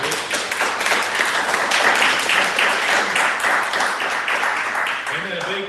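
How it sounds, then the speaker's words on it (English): A crowd at a downtown design public forum breaks into sustained applause, dense steady clapping that swells slightly midway and then begins to taper toward the end. "If we could give them a round of applause"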